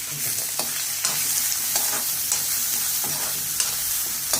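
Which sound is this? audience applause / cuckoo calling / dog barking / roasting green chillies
roasting green chillies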